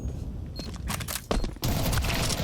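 An HE grenade detonates on the Inferno map during a professional Counter-Strike match, giving a sharp burst of gunfire and blast noise that swells into a loud, sustained roar for the last second.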